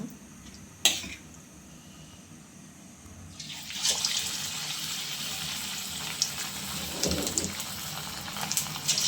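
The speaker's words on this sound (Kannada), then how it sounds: "ಈಗ ಒಂದೊಂದೇ ತೆಗೆದು ನಾವು ಎಣ್ಣೆ ಕಾದಿದೆ ಅದರಲ್ಲಿ ಬಿಟ್ಕೊಳ್ಳೋಣ" Chicken kebabs dropped into hot oil, a sharp knock followed by a loud, dense frying hiss that swells and holds steadily, close and without talk.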